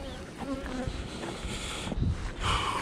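Honeybees and drones buzz around a beehive near hive boxes on a rock, a dense, steady droning hum close by with a few louder passes as insects fly near.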